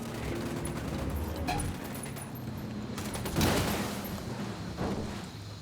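Gunfire rattles through a firefight in Ghost Recon Wildlands, with bursts of shots at a moderate distance over steady game ambience and a sharp louder volley near the middle.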